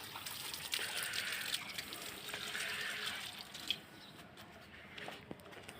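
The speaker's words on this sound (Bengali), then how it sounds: "পানি ট্যাঙ্ক থেকে পানি নিয়ে সে গাছে পানি দিবে।" Water from a tank is poured onto potted plants, including a guava tree, on a rooftop: a soft, continuous splashing trickle that fades to quieter dribbles and drips, faint and without talk.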